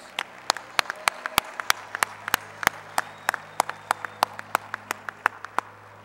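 At a Davis College of Agriculture, Natural Resources and Design commencement, sparse, crisp claps from only a few people in a large hall sound as scattered single hits over about six seconds, with no talking.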